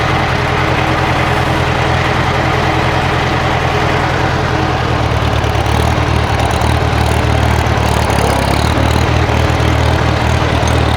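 A Farmall tractor with an M&W 9-speed transmission runs close by in first gear, a loud continuous engine drone that shifts slightly in tone about halfway as the lever changes range.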